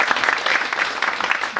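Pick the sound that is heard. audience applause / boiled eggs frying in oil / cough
audience applause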